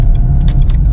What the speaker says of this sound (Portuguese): Tem um carro querendo me ultrapassar aqui na esquerda